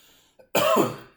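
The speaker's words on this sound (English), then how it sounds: "give me a good cough" A single strong cough, preceded by a faint short breath, sounding close and loud before fading out.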